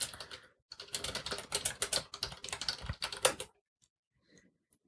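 Keys clatter on a computer keyboard as an apt-get command is typed on an Ubuntu Linux machine: about three seconds of quick, close keystrokes, then silence.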